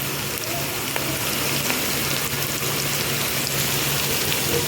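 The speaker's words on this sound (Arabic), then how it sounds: "شوفوا بقى يا جماعة البصل محمر، انزل عليه شوية عسل اهو" Browned onions frying in a pan after honey is poured over them, giving a loud, steady, dense sizzle that holds evenly throughout with a few faint ticks and no speech.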